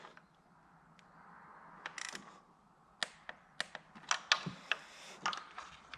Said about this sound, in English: I kind of like this small 1/4 inch drive ratchet just for that reason